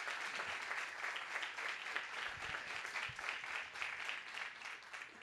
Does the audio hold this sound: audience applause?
yes